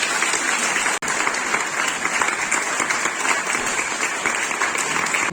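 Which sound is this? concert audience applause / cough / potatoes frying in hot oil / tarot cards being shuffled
concert audience applause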